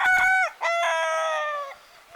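Ayam Ketawa laughing-chicken roosters crow up close on a farm: one loud crow breaks off briefly, then a second long drawn-out crow follows and fades, with no talking.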